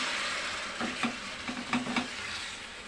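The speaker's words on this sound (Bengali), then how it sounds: "এবারে দিয়ে দিচ্ছি অল্প একটু জলটা দিয়েও আমি খুব সুন্দর করে এবারে মিশিয়ে নিচ্ছি" A spoon works sugar and a splash of water into an egg and potato curry in a hot pan, giving a series of soft scrapes and knocks over a continuous gentle sizzle.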